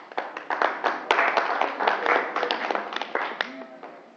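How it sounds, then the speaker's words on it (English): Audience applause with scattered individual claps at a talk on natural family planning, a short round of uneven clapping with a speaker's voice over it. "Let's give them another big clap"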